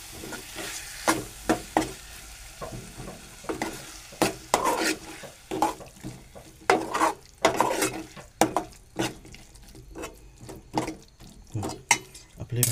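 Vegetables and grated coconut being mixed in a pan, with a steady run of sharp spatula scrapes and knocks over a low sizzle, close and clear.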